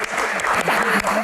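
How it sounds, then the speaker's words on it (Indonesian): Audience clapping at a comedy Q&A show, a steady wash of applause with voices mixed in, brief and fairly loud. "Tepuk tangan, terima kasih Pak Nelly."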